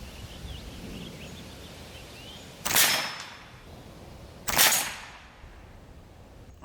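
A Hatsan Velox semi-automatic PCP air pistol fires two sharp, loud cracks about two seconds apart, each with a brief airy tail, against a quiet outdoor background.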